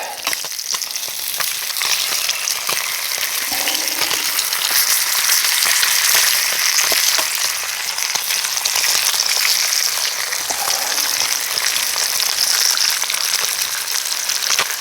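Eggs fry in a pan over an open fire, giving a loud, continuous sizzle and crackle close by for the whole stretch, with no talking.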